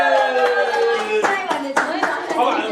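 Family members clapping together at a baby shower celebration, a short burst of close, fairly loud hand claps in an uneven rhythm, mixed with excited voices and a tonal musical or vocal background.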